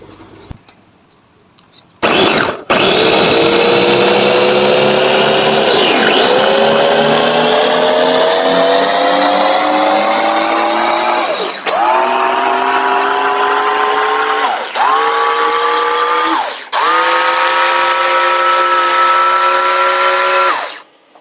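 Electric blender grinding seasoning ingredients with water, starting after a brief quiet moment and then whirring loudly and continuously, its motor pitch rising steadily with several short dips as it pulses.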